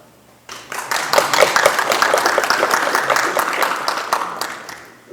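Audience at a provincial government meeting breaks into a round of clapping that starts abruptly, holds steady and dense for several seconds, then thins slightly toward the end.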